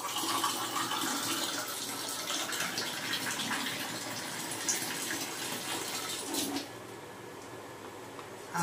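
A water machine runs in a home while a kitchen is nearby, giving a steady broadband rush of filling water that holds for several seconds, then drops to a quieter flow near the end; no one speaks.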